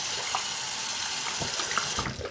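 Water runs steadily from a tap as a toy horse is rinsed beneath it, a close, even splashing hiss with small shifts in spatter near the end.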